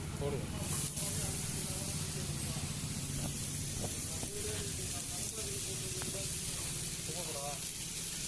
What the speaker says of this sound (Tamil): கொஞ்சம் ஆயில் ஊற்றி கொஞ்சம் லேசாக ஃப்ரை பண்ணிக்கலாம்